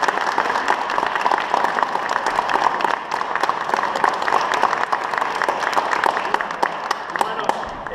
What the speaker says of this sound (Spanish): les pido un aplauso para mis colegas